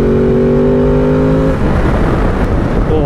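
A Ducati DesertX Rally motorcycle engine pulls hard and close, a steady rising tone giving way to a loud, rough roar as it accelerates, with wind noise and no talk.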